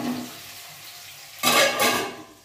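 Food fries in a covered pan on a home stove: a quiet low sizzle, then two loud, rushing bursts of sizzling and scraping close by, each fading out.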